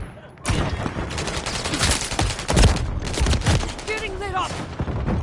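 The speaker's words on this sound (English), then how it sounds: "Taking fire." Dense, loud bursts of rapid gunfire and explosions fill a firefight in Call of Duty: Modern Warfare 3, with overlapping weapon fire in quick volleys and a brief electronic chirp near the end.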